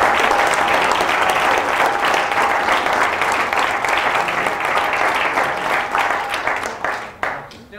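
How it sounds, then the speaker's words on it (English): An audience gives a big round of applause for Dr. Giesner, dense and loud sustained clapping with crowd noise that carries on for several seconds before tapering off near the end. "How about a big applause for Dr."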